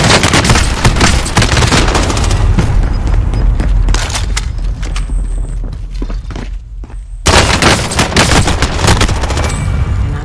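Gunfire from the OTS weapon in Call of Duty Warzone: loud, rapid shots and booms pound through most of the passage. A near-silent gap comes before another heavy burst of fire.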